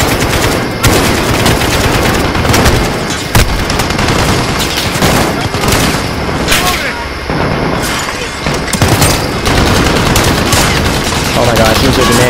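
Machine gun fire in Modern Warfare (2019) hammers out in sustained loud bursts with dense rapid shots and booming impacts, over a constant game soundscape with occasional voices mixed in.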